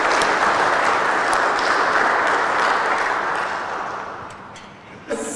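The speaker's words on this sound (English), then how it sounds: "I think that involves a round of applause for Tina and her team." A congregation applauds Tina and her team at a church service, a dense, loud, steady wash of clapping that gradually fades toward the end, closing with a brief knock.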